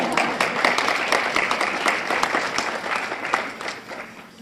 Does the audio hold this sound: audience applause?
yes